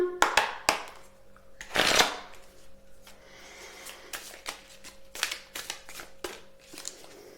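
Tarot cards shuffled and handled at close range, with brisk riffling flutters, taps and soft papery rustles in quick irregular bursts, fairly quiet and with no talk.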